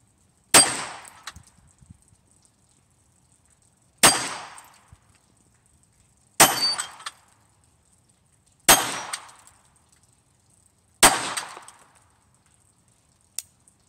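Five sharp, loud pistol shots from a small Astra Cub handgun chambered in .22 Short, evenly spaced a couple of seconds apart, each crack ringing briefly before fading, with a faint click at the end.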